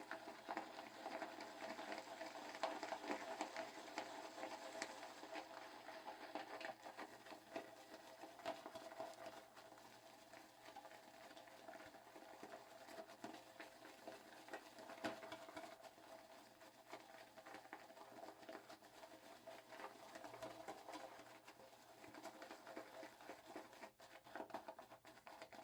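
A shaving brush swirls lather for a Gillette Nacet shave with Vetyver soap, a continuous wet, rhythmic patter and squish that runs steadily at low volume without pause.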